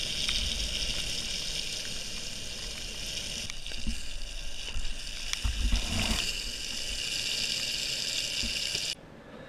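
Steady broadband hiss of a skateboard fitted with wheel shields rolling over a rain-soaked road in Oregon, water spraying and splashing continuously, with a few scuffs and thumps midway before the rolling noise drops off at the end.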